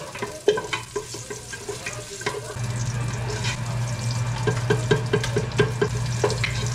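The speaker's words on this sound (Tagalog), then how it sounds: "Ako naman na magigisa na ako dito pa sa sinigang ko." Ginger sautéing in a pan for sinigang, a close sizzle that swells louder partway through, with scraping stir strokes and light clinks over it.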